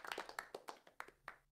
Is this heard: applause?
yes